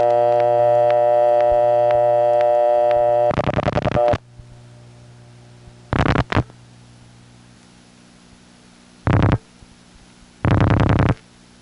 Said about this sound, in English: now we'll get to hear the sound of a card drop close up